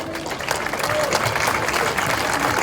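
Crowd applauding Paralympic athletes at a homecoming celebration for the Paralympic delegation, steady dense clapping with cheering voices mixed in throughout.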